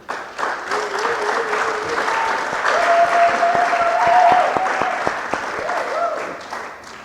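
An audience in a hall applauds itself at a French-language event, with a sustained round of many hands clapping that swells and then fades. A voice and a faint tone sound partly over the clapping.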